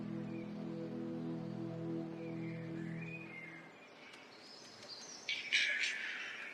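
Male birds call in a snowy late-winter forest remnant, chirps and short bursts building toward the end over a low steady drone that fades away midway.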